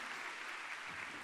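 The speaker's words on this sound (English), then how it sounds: "Can you give these guys a round of applause?" A short burst of audience applause, dense and steady clapping filling the whole moment with no voices.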